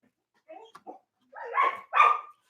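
Several dogs bark and yip at someone at the door, with a few short yaps followed by two louder, longer barking bursts heard alone at moderate distance.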